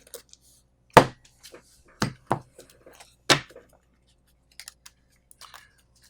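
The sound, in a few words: shuffling a deck of game cards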